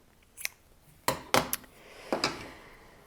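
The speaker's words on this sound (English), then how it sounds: "I'll cut this weft" Scissors snip weaving weft yarn in a few crisp, close metallic cuts, first a single snip, then a quick pair of snips and another pair a moment later, in a quiet room.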